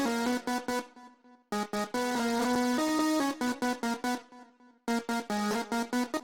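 Hyperpop synth lead layered with extra bright melody sounds from the Purity plugin, playing choppy staccato note bursts in quick rhythmic phrases broken by short gaps, loud and crisp with no talk.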